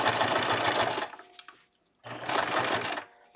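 Home sewing machine driven by a foot pedal while sewing cloth diapers, two close, steady whirring bursts of stitching about a second long each with a short quiet pause and faint clicks between.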